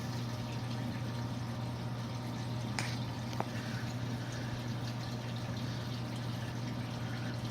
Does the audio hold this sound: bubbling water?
yes